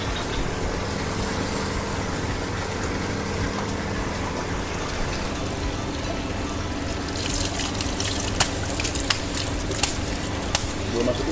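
Pond filter media for a koi pond being rinsed in pond water, a steady close splashing and trickling wash with a few sharper knocks later on, under a person talking.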